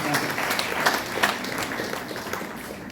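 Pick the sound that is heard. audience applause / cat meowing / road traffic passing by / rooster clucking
audience applause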